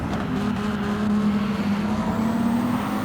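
Lamborghini race car engine in Gran Turismo 7 droning steadily at a sustained pitch, a continuous buzzing tone holding throughout with a faint higher whine above, no talk over it.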